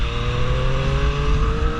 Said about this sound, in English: because the bike revs so freely